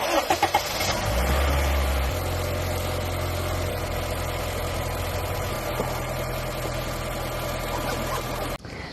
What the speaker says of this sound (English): what you just saw me using is a little booster or jump starter that I always have in my car